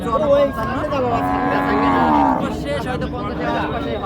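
A two-tooth Friesian cow at a cattle market moos loudly in a long, drawn-out call, with a shorter lowing sound after it, over a busy background of crowd noise.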